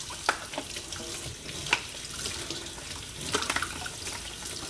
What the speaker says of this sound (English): I'm just cleaning the top with some soap.